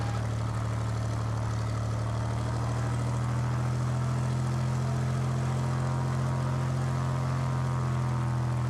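A light airplane engine drones steadily during taxiing on a soft field, a loud, constant propeller hum with a strong low throb filling the cabin throughout.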